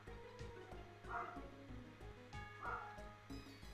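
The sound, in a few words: dogs barking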